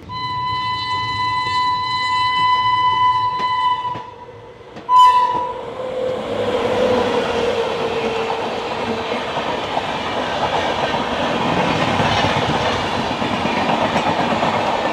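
The Howrah Mathura Chambal Express passes close by: a long steady horn blast opens, then a sharp burst and a sustained loud rumble and clatter of rail wheels rolling past.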